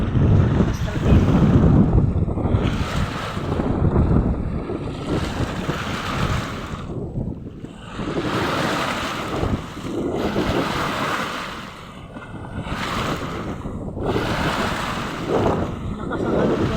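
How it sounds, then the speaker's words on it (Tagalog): Powerful ocean waves surge and crash one after another, loud and close, with heavy wind rumbling across the microphone. "Malakas yung alon."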